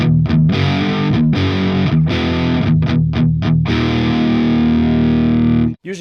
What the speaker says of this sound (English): this is the sound of the pedal just going straight to the IR